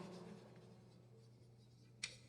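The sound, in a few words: writing on a board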